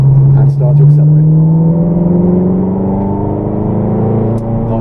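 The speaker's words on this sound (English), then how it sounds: "Unwind the wheel and start to accelerate." Supercar on the Rockingham track pulling out of a corner, engine note climbing steadily as it accelerates hard, loud and close from inside the cabin, with an instructor talking over it.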